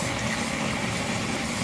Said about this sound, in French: Le vide est effectué en ouvrant le robinet. L'eau est évacuée.